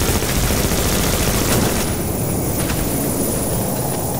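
Rapid SMG fire in a shooter game, a dense continuous rattle of shots that stays loud and close throughout with no pauses and no talking.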